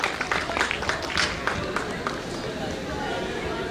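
An audience at a stage show claps in a burst of scattered applause that thins out over a few seconds, mixed with crowd murmur and voices talking.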